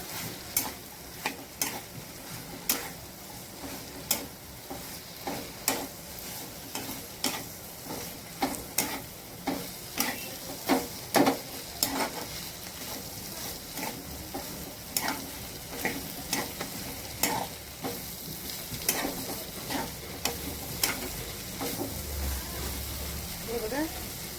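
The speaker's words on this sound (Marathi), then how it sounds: "दोडकी टाकून घेऊया छान मिक्स करून घ्यायचे आहेत" Ridge gourd stirred and sautéed in a hot pan gives a steady close sizzle, punctuated by regular scraping and clacking of the spatula against the pan over about twenty seconds.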